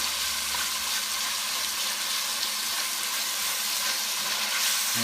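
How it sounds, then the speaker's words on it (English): Ground beef browning in a pan for a paleo Zuppa Toscana soup, a steady, soft sizzle that hisses evenly throughout without interruption or voices. "brown the hamburger just like we did with the sausage"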